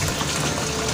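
Tap water gushes steadily into a Panasonic NA-W76BBZ2 7.5 kg twin-tub washing machine, a dense, continuous rushing pour, close and fairly loud without pause.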